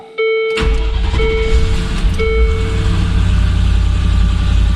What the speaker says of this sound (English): Do I, for the first time, have 2 running Land Rover Discoveries?